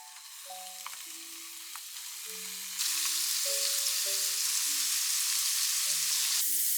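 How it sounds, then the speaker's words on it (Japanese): Lotus root sizzling in rice oil in a frying pan, a steady close hiss that grows suddenly louder partway through as frying intensifies, with soft background music tones and no talking. "フライパンに米油を入れて、 レンコンを焼きます。"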